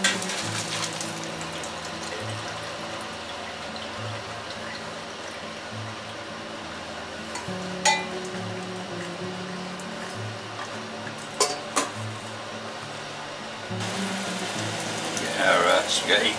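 Cooked spaghetti is drained, a continuous rushing pour of water with clatters of the pot and colander, rising into a louder gush near the end.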